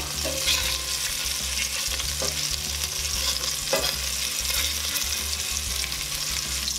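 Meatballs sizzle loudly and evenly in a hot pan, with a few scraping clinks of a utensil moving them around.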